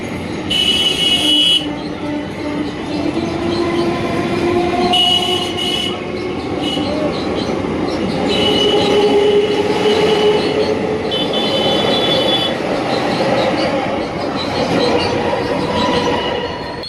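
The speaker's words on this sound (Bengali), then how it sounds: "ট্রেনটা যাচ্ছে এত ভিড় ট্রেনে" A crowded passenger train passes close by at a market, loud and sustained, with rumbling wheels, clattering carriages and high squealing wheel tones rising and falling throughout.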